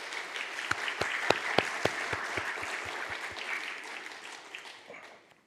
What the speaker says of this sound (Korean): 우리 박수로 환영 한번 하겠습니다.